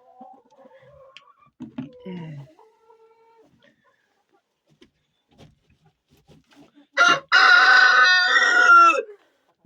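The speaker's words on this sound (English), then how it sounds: "That's just chickens, man." Scattered soft clucks from chickens, then a loud rooster crow bursts out near the end, close and dominant.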